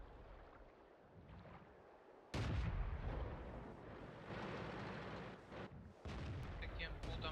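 Gunfire from a shooter video game with blasts that kick in loudly partway through and continue in bursts, while a player talks over the action.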